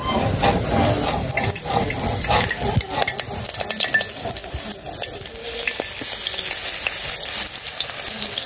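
Hot oil crackles and sizzles in a heated wok, a loud, close, continuous frying noise with scraping stir sounds and a faint watery hiss mixed in.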